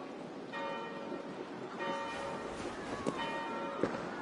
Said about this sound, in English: Do you not hear the bells?